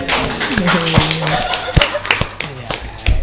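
Sparse, close hand claps during an Islamic lesson on children's duties to parents, scattered sharp smacks under a speaking voice.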